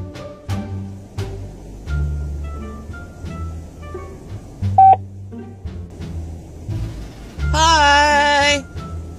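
Car phone DTMF dialing tones and a connecting chime for an OnStar hands-free calling center, a series of short, moderately loud beeps over low cabin hum, ending in a louder multi-tone burst near the end.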